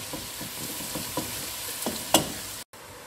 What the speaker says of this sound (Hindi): अच्छे से उसको मैंने फ्राई किया है, प्याज को हल्की सी ब्राउन हुई है